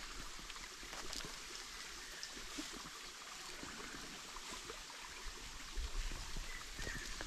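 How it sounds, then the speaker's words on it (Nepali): A Darjeeling river stream running slightly swollen after rain, a steady broadband rush of flowing water that stays even and fairly faint throughout, with a small surge near the end. "हल्का रूपमा बढेछ खोला चाहिँ है"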